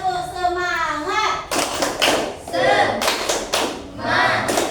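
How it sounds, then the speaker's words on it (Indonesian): A classroom of children claps out a rhythmic chant, with loud bursts of clapping mixed with their voices after a teacher speaks. "Ayo coba tepuk semangat."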